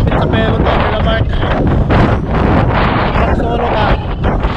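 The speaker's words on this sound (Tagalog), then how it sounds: "Sobrang lakas ng hangin." Loud, constant wind buffeting the microphone while cycling through Zhunan Township in Taiwan, a dense roar that covers everything else for the whole stretch.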